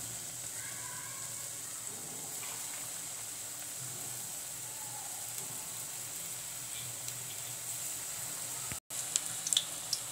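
Spoonfuls of besan phulki batter dropped into hot oil, giving a steady, even sizzling hiss that carries on throughout at moderate loudness, with a brief clatter near the end.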